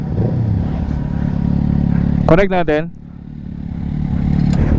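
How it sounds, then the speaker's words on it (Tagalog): Inline-four motorcycle engine running steadily with a smooth mid-pitched drone, heard close up while a rider speaks briefly over it. "Tunog inline 4."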